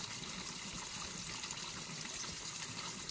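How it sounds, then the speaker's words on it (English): Water babbles and trickles steadily along a creek in a forest, with a continuous close rushing wash and no voices. "Just love to listen to the water babble"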